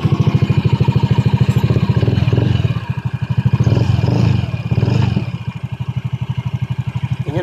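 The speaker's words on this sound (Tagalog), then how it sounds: "Ganyan po, kalamig ang tunog ng kanyang makina." A Honda Beat Fi scooter engine with about 36,000 on the odometer idles close by after being repaired for stalling mid-ride and refusing to kick start, holding a steady, even putter with slight swells throughout.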